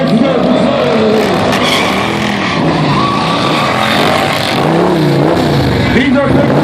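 A Polaris Slingshot stunt vehicle spins and slides sideways at a Sturgis stunt show, loud engine roar and tire squeal filling the air continuously, with an announcer talking over the noise.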